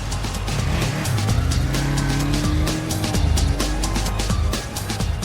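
A car pulls away from a pub car park at the start of a buyer's test drive, its engine revving loudly and steadily up close with tyre noise throughout, no talking.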